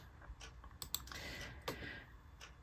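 A few sharp computer mouse clicks land in a quiet room while working in Cricut design software, set up for decorating a cutting board; they are close and faint, with two quick clicks near the start and one more later.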